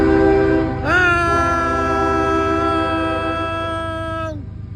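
A CSX diesel locomotive on an eastbound local freight train sounds its horn, a loud, sustained multi-tone chord held for about three seconds before cutting off, over a low engine rumble.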